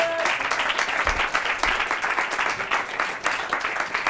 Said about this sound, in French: On peut l'applaudir, merci beaucoup.